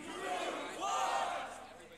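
Crowd at a beatbox loop station battle shouting together in response to the host, a sustained massed roar of voices that swells midway and stays loud for two seconds.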